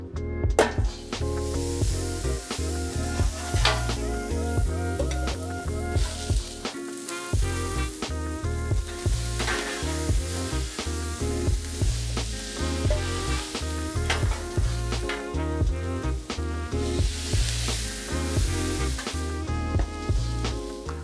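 Pork, aromatics and vegetables stir-frying over a Weber grill, a steady loud sizzle broken by regular rhythmic scrapes and clanks of a spatula tossing the food in the pan, continuing without pause and with no talking.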